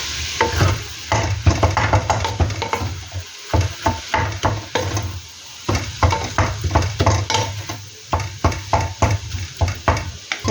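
Fried sausage and soy sauce are stirred for chao fan in a hot pan, giving repeated brisk scraping strokes in a steady rhythm over a constant sizzle, loud and close.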